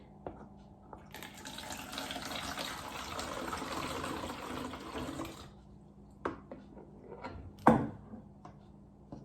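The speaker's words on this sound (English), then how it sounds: "you can take your bottle and you use your funnel to combine the hydrogen peroxide" Hydrogen peroxide pours through a funnel into a bottle as a soft, gurgling stream that runs for about four seconds, followed by a few faint clinks and knocks.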